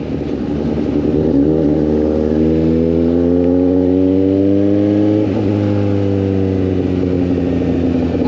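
Suzuki GSX 750 motorcycle with only an exhaust pipe, revving steadily as it shifts up through the gears without the clutch; the engine note climbs in pitch, dips sharply at a shift and climbs again, loud and close, with no talk.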